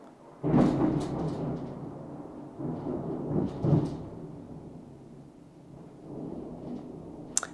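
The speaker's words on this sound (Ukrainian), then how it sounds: "там гроза." Thunder rumbles during a thunderstorm, with loud rolling peals swelling near the start and again midway before trailing into a quieter, distant grumble.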